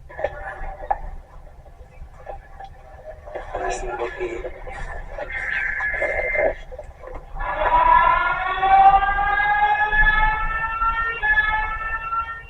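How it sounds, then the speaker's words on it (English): A wailing siren with rising and falling tones comes in partway through, loud and steady, after a stretch of mixed muffled sounds and voices. "police siren or something"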